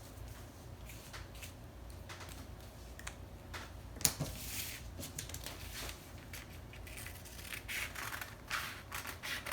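Scissors cut fabric for a bell sleeve dress, a string of quiet, soft snips and crisp rustles in uneven rhythm, close by with a low room hum.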